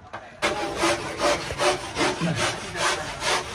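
A surfboard blank being shaped by hand, a close rhythmic rasping stroke repeated about seven times in steady back-and-forth rhythm, with no talking.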